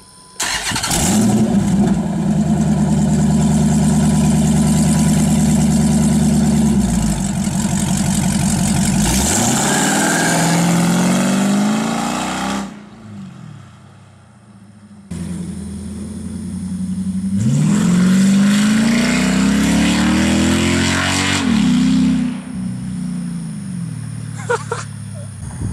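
A Dodge Charger 5.7L Hemi with straight-pipe exhaust, catless mid pipes and SRT short-tube headers fires up and idles loudly, then rises through repeated rising and falling revs. It cuts off briefly, restarts and revs hard again, close to the listener.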